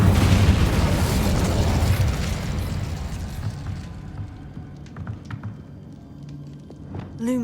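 Incendio fire spell cast in a wizarding video game: a loud, broad whooshing burst that fades over a few seconds into quieter background ambience with small clicks.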